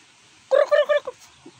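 A turkey on a provincial farm gobbles in a quick burst of three loud, close rattling calls, followed by a softer trailing note and a faint bird sound, with quiet surroundings and no talk.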